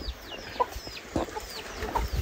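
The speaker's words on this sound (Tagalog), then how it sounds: "May mga alaga siyang mga manok" Chickens kept by an old man at his forest home cluck softly and repeatedly nearby. Short, irregular clucks and chirps sound over a faint outdoor background.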